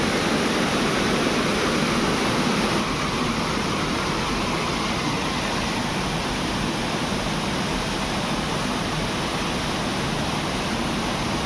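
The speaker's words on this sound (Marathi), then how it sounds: "मंदिराच्या बाजूला आहे बघा इथे कसं धबधबा आहे" Steady, dense roar of rushing water from a waterfall beside Dhutpapeshwar temple in Rajapur, Ratnagiri, fills the whole clip without a break, loud and close, with no voices.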